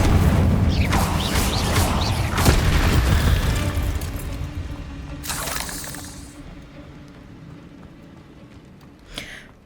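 A fiery spell cast in Hogwarts Legacy, with loud booming bursts and crackling impacts in the first half, a sharp whooshing blast around the middle, then fading with a brief pop near the end.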